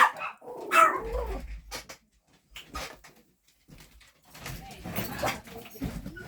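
Several dogs bark and yip in bursts nearby, with some whimpering between, while a person talks over them.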